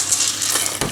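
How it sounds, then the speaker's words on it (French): Berkoukes pasta being stirred into a meat sauce with chickpeas, a continuous close scraping and bubbling sizzle over a bit under a second, steady and fairly loud with no talk. "Et je rajoute les balkoukas dans la sauce."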